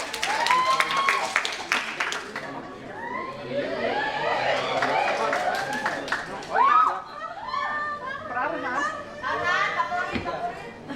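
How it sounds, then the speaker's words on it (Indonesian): Applause at the closing of a Sundanese dance workshop for a dance performance, clapping mixed with lively children's voices and chatter throughout. "Langsung saja kita berikan tepuk tangan yang meriah untuk tari lenyepan"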